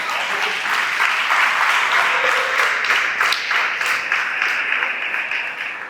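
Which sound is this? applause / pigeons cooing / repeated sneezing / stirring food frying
applause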